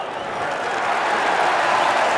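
A video game crowd cheers and claps in a dense, steady roar that swells slightly over a couple of seconds.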